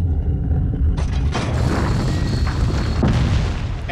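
A large mechanism turns in the video game Resident Evil 4, a loud continuous low rumble with grinding and clanking layered over it, swelling as the machinery starts moving and holding steady.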